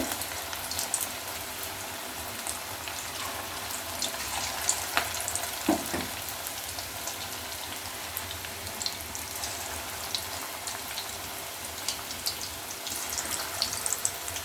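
Bread pakoda frying in a pan of hot oil, an even, dense crackling sizzle that holds steady throughout, close up and with no talk.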